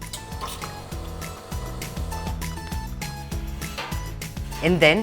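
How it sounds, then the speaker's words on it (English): A pitcher is filled with hot water from an espresso machine. Liquid runs and splashes steadily with metallic clinks, and a voice speaks briefly over it before a rising gurgle near the end. "I get another pitcher, fill it up with hot water from the machine"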